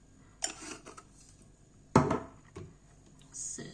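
A spoon stirs oats and shaken-in cinnamon in a bowl, giving a few sharp clinks and scraping clatters separated by quiet pauses. The loudest knock comes about halfway through, and there is no speech.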